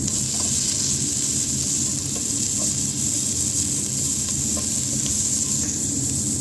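Boiled chicken pieces and peppers frying in a pan for fajita rice, a loud continuous close sizzle with faint stirring.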